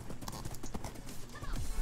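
Horse hooves clip-clop in quick succession as a horse is ridden in a video game, with a close, busy rhythm of hoofbeats over a low background.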